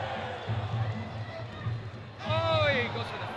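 Home crowd in a San Francisco fight arena chanting for local fighter Jonathan Tan, a broad roaring swell of many voices that rises louder near the end, under steady commentator talk.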